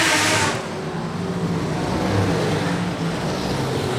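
Super sedan race car engine and exhaust roaring loudly on a racetrack during a national title night meeting, a continuous heavy rumble with a sharp burst at the start, with no voices.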